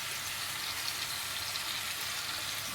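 Chicken breast fillet frying in rapeseed oil, a faint, even crackling sizzle held steady and close throughout, with no voices.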